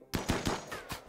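Gunshots in a RimWorld colony battle: four or five sharp, loud reports in quick succession, close and alone without speech.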